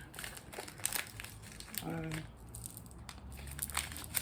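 A bag of electroplated glass cubes handled up close, soft crinkling of the bag and light clinks of glass, with a person talking quietly over it.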